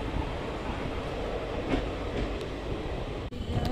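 The Rajrani Express rolls out of Alamnagar station, a steady loud rumble of carriages and wheels on the rails heard from on board, with faint clicks over the track.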